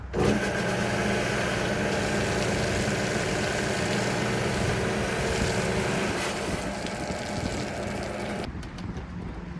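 Small gas engine of a float-tank pressure washer running steadily to pump the tank out, a loud, continuous close drone that drops in level slightly toward the end.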